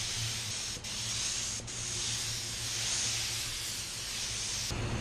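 Matco MTHVLP14 HVLP spray gun spraying at about 29 PSI, a steady loud hiss of air and atomized paint continuing without break, with a few brief dips.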